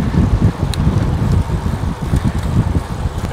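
Strong wind buffets a microphone during a long-distance ultra-cycling ride toward Mont des Avaloirs, a loud continuous low rumble with gusty pulses and no voices.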